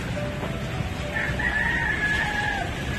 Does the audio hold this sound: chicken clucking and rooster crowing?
yes